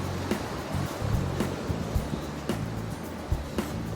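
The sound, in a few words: sea waves crashing on the beach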